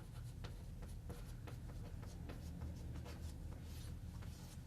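Chalk or marker scratches across a classroom board in short, irregular strokes under a steady low background hum, with no voices.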